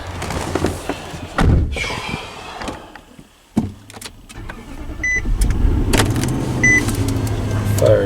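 Infiniti QX56 with about 192,931 miles and a service engine light cranks over and fires up, settling into a steady low idle, with brief clunks and door or key noises early on, heard close in a cold setting.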